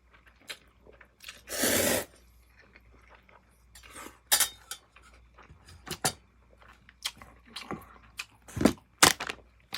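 Someone eating Paldo bibim-myeon, cold spicy Korean noodles, at close range, with wet chewing, slurps and crunchy bites, cutlery clinking against a dish, and one long loud slurp early on.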